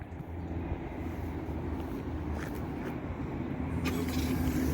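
A Honda CR-V engine starts by key fob remote start and settles into a steady low idle close by, with a continuous rumble and no voices.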